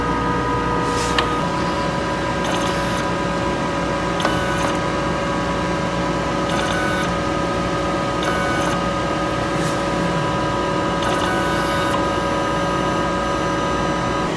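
A Smart 1HB sublimation printer running a head clean, a loud steady mechanical whir with constant hum and periodic brief hissing bursts at regular intervals.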